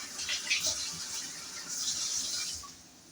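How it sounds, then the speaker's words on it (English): Tap water runs into a sink as hands are washed, a steady soft splashing stream with small irregular surges, fairly close and quiet, with no talking. "wash my hand"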